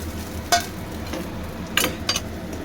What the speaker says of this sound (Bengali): একটু নেড়ে চেড়ে ঘিটা লাগিয়ে নেবো চালের মধ্যে।